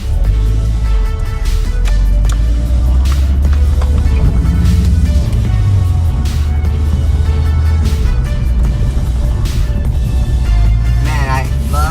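A Nissan 180SX (S13/SIL80) drives on the street, its engine loud and droning up through the gears with rising pitch between shifts, brief dips at each change, heard from inside the car.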